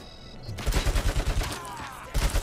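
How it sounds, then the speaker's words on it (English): Rapid gunfire from a gun in the video game Robocop: Rogue City, a run of about nine evenly spaced heavy shots followed by a brief pause and another burst, loud and close. "Damn, that is a fucking gun."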